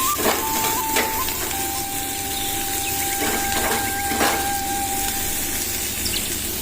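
Grated capsicum and carrot hiss in hot oil with a steady, dense sizzle, joined by a faint tonal whine and a few soft knocks from the pan.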